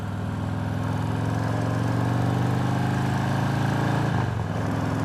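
Motorcycle engine idling with a camper trailer hitched behind, a steady low rumbling putter held close and loud throughout, with a brief shift in tone near the end.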